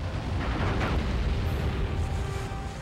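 Crossbeams being destroyed in the video game Sly 3, heard as a sustained, rumbling crash of breaking and collapsing debris, loud and steady across the moment with no voice over it.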